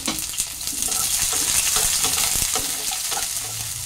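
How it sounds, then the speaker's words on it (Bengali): Chopped onion and garlic frying in a pan, a loud, dense, continuous sizzle with light stirring noises, close and steady without talk. "এই পেঁয়াজটা এখানে দিয়ে দিলাম, তার সাথে দিয়ে দিচ্ছি রসুনের কুচিগুলো। এটাকে একটু হালকা করে ভেজে নেব।"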